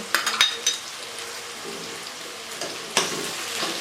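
Fish karahi with green chillies and tomato frying in a pan over medium heat, a steady soft sizzle with a few sharp clinks and stirring scrapes near the start and a louder spatter burst near the end.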